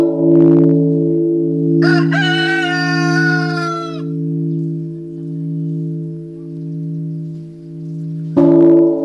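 Roosters crowing at dawn at Thien Mu pagoda in Hue: one long, loud crow plus brief calls at the start and end, all over a steady low humming drone.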